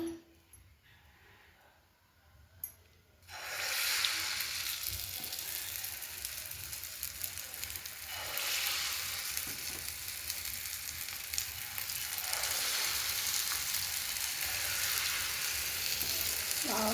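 Batter hits hot oil with a sudden loud sizzle after a quiet start, then fries steadily with a dense, crackling hiss that carries on close and continuous, with faint clinks of utensils.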